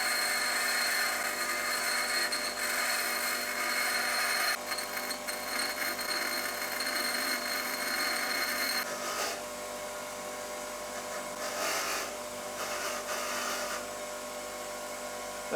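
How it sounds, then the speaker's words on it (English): A bolt is ground down for a homemade bike lift, a continuous harsh, loud grinding whine lasting about fifteen seconds that shifts in pitch and intensity as the tool bites, with no speech. "I'll just quickly give this a grind"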